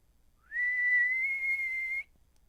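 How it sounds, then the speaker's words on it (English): A person whistles one clear, sustained note, sliding up briefly at the start and holding steady for about a second and a half before stopping. "can I whistle?"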